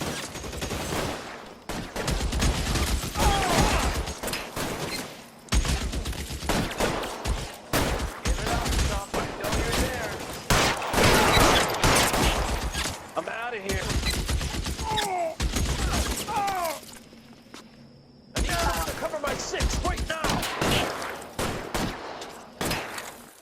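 Loud bursts of rapid gunfire in a shooter game, repeated volleys broken by short pauses, with characters shouting and talking between and over the shots.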